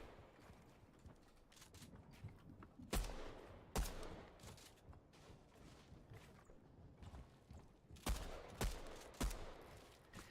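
Fortnite gunfire in sharp, scattered bursts, a few loud shots standing out over a quieter background of distant firing and mechanical noise.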